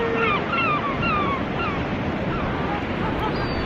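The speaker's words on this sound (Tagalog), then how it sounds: "Grabe, sobrang alon." Rough sea waves on the coast at Whitby, England, a loud continuous roar of surf mixed with wind buffeting the microphone, with seagull cries over the top in the first seconds.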